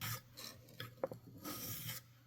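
A Mora 106 Scandi knife blade rasps across a whetstone in several separate strokes, short gritty scrapes with brief pauses between them, close and fairly quiet.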